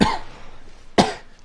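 A person with a cold gives two sharp, harsh coughs about a second apart, close to the microphone, with quiet in between.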